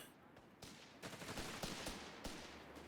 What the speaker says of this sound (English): Heavy machine gun's going to put a pretty quick end to a brawl like that, though.